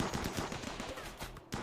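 Rapid gunfire from a battle in the colony-building game RimWorld, a dense run of sharp shots close together with brief pauses, loud and continuous over game background.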